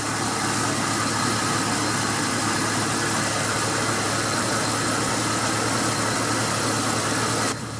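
A 1999 Jeep Cherokee with a 4-speed automatic transmission idles steadily throughout, a constant close mid-frequency engine drone with vibration and no talking, cutting off abruptly at the very end.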